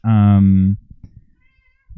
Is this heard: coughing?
no